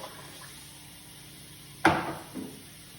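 Water pours into a pan of uncooked rice in a home kitchen in one short splashing gush, followed by a smaller second splash, against a quiet background.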